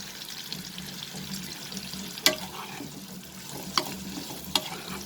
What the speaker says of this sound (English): And now we will fry it for some time till it changes its color.